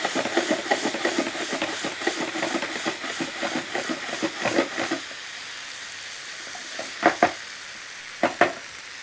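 Sliced okra frying in a pan sizzles densely and steadily for about five seconds, then thins out to a few scattered crackles and pops against a quiet background.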